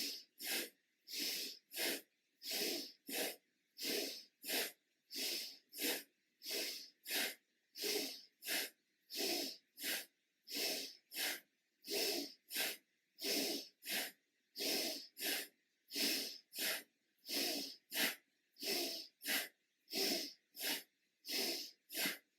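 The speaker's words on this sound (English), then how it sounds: "inhale up, exhale down forcefully" Forceful rapid exhales from a fast breathing exercise, about thirty sharp breath bursts in a steady driving rhythm, close and loud, each a hissing puff of air with brief gaps between.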